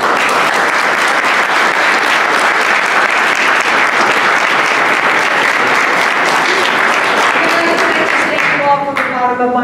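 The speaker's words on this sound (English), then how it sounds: "Let's have a round of applause for..." Audience at a mayoral veterans forum breaking into loud, dense applause that holds steady for several seconds before a voice begins speaking as it tapers off.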